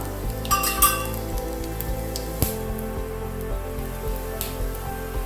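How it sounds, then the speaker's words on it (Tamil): Whole spices (cinnamon, cloves, fennel, bay leaf and kalpasi) are tempered in about three spoons of hot oil for a chana dal kurma, giving a soft, steady sizzle with occasional light metal clinks of a utensil against the pan. "ஒரு மூணு ஸ்பூன் எண்ணெய் இப்போ நம்ம ஒரு பட்டை கிராம்பு இது சோம்பு பிரியாணி இலை கல்பாசி போட்டு அப்படி தாளிச்சுக்கலாம்"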